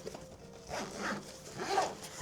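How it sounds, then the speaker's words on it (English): A zipper on a carry-on travel backpack is pulled open in a few quick close rasping strokes, with no talk over it. "And then we've got another zipper."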